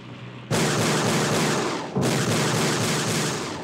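Missile launches in Forsaken Remastered during the Battle Base level: two loud, abrupt blasts, each followed by a broad roaring whoosh that fills the clip, the second starting about a second and a half after the first.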